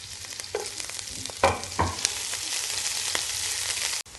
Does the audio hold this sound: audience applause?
no